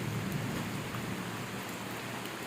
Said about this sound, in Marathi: पहाटे साडेपाच वाजेपासून अतिवृष्टी चालू आहे